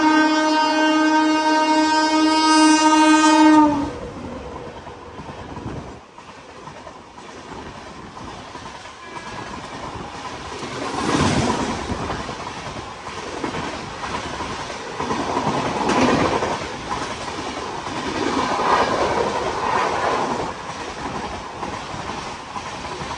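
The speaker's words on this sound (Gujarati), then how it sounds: "ડાયરેક્ટ હવે 3 ટ્રેન એકી સાથે ઓવરટેક કરી રહી છે" At Than railway station in Gujarat, several trains pass and overtake. A long, loud horn blast opens, followed by a sustained rumbling clatter of passing rail cars that swells and ebbs.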